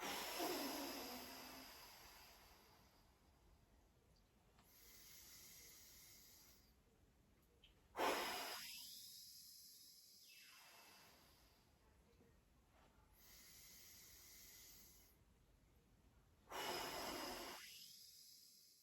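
Slow, deep nasal breaths from a senior doing seated leg exercises, faint and close, with two or three long hissing inhales and exhales spaced several seconds apart in a quiet room.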